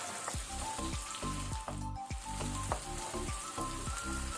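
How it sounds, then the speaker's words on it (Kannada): Medium-sized onion frying in a pan over a medium flame, a steady loud sizzle with crackles and repeated scraping stirs throughout. "ಈಗ ಒಂದು ಮೀಡಿಯಂ ಸೈಜ್ ಈರುಳ್ಳಿ ಹಾಕೊಳ್ಳುವ. ಅದನ್ನು 1 ಮಿನಿಟ್ ಫ್ರೈ ಮಾಡುವ ಮೀಡಿಯಂ ಫ್ಲೇಮಲ್ಲಿ."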